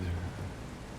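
Rain falls steadily in a soft, even hiss throughout, with a low rumble at the very start.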